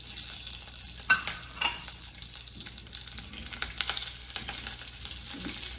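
Cumin seeds, curry leaves and green chili crackle in hot oil for an Andhra-style mango dal, with a steady hiss and scattered sharp pops close by.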